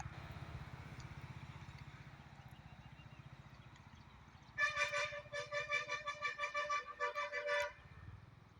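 An old bus approaches on a street and sounds its horn in a rapid run of loud, repeated honks that stand out over steady traffic rumble, then fades back into the background.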